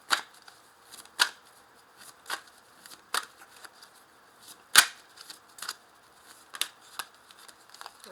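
Tarot cards are shuffled and handled close up, a string of sharp, irregular riffles and snaps separated by brief quiet gaps, with one louder slap near the middle.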